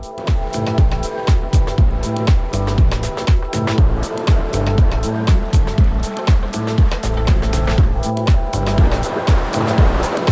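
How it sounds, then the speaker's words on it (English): Ocean waves surge and slap against the rounded hulls of a sailing boat at sea, a close, loud run of rhythmic splashes and rushing water, one after another. "You anticipate the waves, surf and dodge them."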